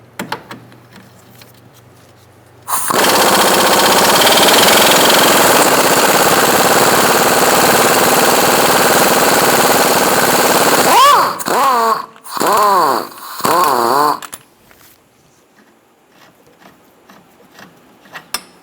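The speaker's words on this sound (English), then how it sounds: "Using a 17mm socket, we're going to take out this bottom bolt." Power tool on a 17mm socket removing the bottom shock bolt on a 2004-2009 Mazda 3 rear suspension, a loud continuous whirring run of about eight seconds, followed by several shorter whining bursts before stopping.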